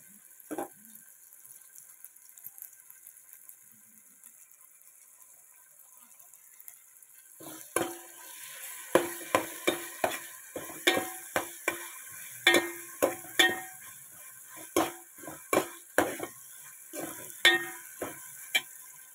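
Masala for village-style chicken curry, with onion and tomato, frying in a pan: quiet low sizzling at first, then a run of sharp, irregular stirring scrapes and clicks over steady frying, close and fairly loud.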